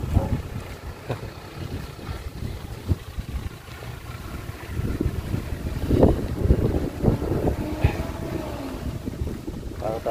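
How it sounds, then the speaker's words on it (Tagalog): Strong outdoor wind buffets the microphone with a continuous low rumble and gusts, loud and close, while occasional faint voices sound beneath. "Lakas ng hangin."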